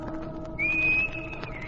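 A man whistles a single sustained note as a signal from a dock, clear and fairly close, lasting about half a second over quiet background.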